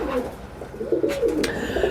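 Domestic pigeons in a loft give brief, soft, throaty coos, close by in a quiet space.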